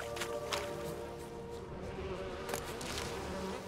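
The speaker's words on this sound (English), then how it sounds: "a cloud of bees is coming after me." A swarm of bees buzzing in The Witcher 3, a steady low insect drone with a few brief louder swells, faint and continuous over quiet game ambience.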